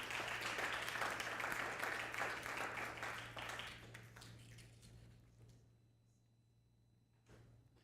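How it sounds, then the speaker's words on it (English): Applause from a synagogue congregation at a Shavuot service, dense and steady at first, then gradually thinning and fading out, with a few last claps near the end. "You can do some applause to our new president."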